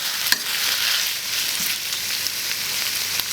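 Pig liver goes into a hot wok with ginger for a quick stir-fry, giving a steady close sizzle with a few soft spatula taps over about three seconds.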